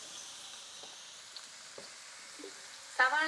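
Onions sautéing in a pan give a soft, steady sizzle close by, with a few light scrapes and clicks from stirring and a brief louder crackle near the end.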